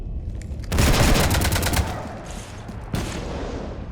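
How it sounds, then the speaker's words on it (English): Rapid automatic gunfire in the sci-fi shooter Mass Effect 3, a loud dense burst of shots lasting about a second and a half, then a quieter rumble and a second short burst near the end. "You want to stop shooting up my ship?"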